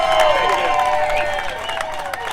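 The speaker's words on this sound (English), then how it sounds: "Let's have another round of applause for this guy." Audience applause and cheering at a public gathering, a brief burst of crowd clapping with voices on top, loud at first and tapering slightly.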